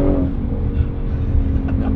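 A deep, throaty engine of a 2019 Audi RS6 Performance with 830 PS rumbles loudly nearby, its low growl holding steady with slight surges in revs.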